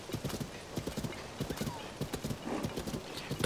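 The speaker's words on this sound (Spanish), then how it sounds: "hay que venir con el caballo gigante" A giant horse in Zelda: Tears of the Kingdom trots along with steady, rapid clip-clopping hooves, a brief whinny mixed in, while someone talks over the footfalls.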